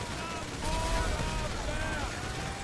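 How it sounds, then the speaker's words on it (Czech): Gas station blowing up in the video game GTA V, a broad rumbling explosion with crackling debris that swells after half a second and then rolls on, with a voice talking over it. "Oh, ten výbuch té benzínky, nádhera."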